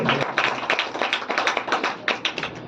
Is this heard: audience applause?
yes